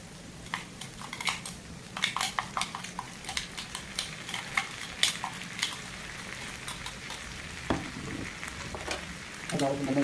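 Tomatoes tipped into a hot pan for a mixed vegetable kurma, sizzling and frying with scattered spoon clinks and scraping against the pan, close and moderately loud, with no one speaking.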